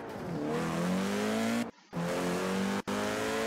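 A Volkswagen Golf R in Forza Horizon 4 revs hard through short gears. Its engine note climbs steadily, then drops sharply at one quick shift and again at a second, before climbing once more, loud and close.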